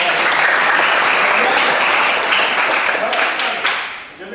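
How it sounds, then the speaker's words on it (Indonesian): Applause from a group of vocational students in a light-vehicle engineering workshop classroom, a dense steady patter of clapping that holds evenly before tapering off near the end. "Baik, tepuk tangan."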